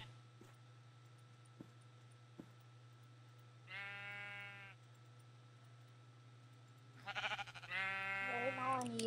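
In Minecraft, a lone sheep bleats clearly, then a louder, longer run of bleats follows near the end, with faint clicks and a low constant hum between calls.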